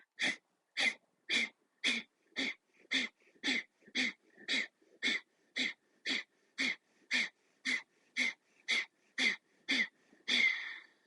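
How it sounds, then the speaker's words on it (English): Short, sharp breaths during a yoga breathing exercise, about twenty forceful nasal exhales in an even, steady rhythm, close and clear against silence, with the last breath longer. "When you're ready, short, sharp breaths."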